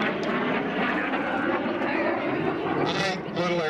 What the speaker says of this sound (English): Little airplane, sleek little airplane.